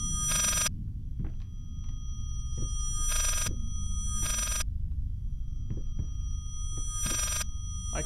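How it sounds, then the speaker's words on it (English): A telephone rings inside the horror video game Layers of Fear, sounding as four evenly spaced bursts of bright ringing with faint knocks and thuds between them and no voices over it. "I can't answer that phone."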